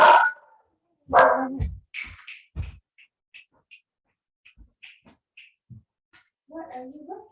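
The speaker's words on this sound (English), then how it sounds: "It's okay if you get distracted by things happening, like a dog barking." A dog barks a few times in the distance in short separated yelps, faint and intermittent, with quiet bird chirps scattered through and a person speaking softly near the end.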